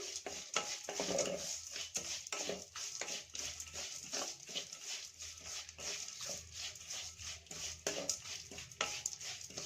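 Lentils roasting in oil in a kadai for puliyogare powder, with continuous dense frying crackle and repeated scraping and stirring clicks of a utensil against the pan throughout, no talk.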